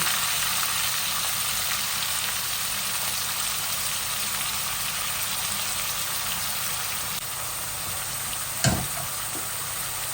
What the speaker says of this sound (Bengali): আর এই বড় একটা অনিয়ন দিয়ে দিচ্ছি আমি ফোড়নের মধ্যে